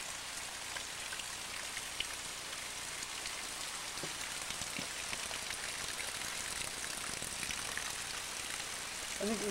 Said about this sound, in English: I think we had rain for 5 days.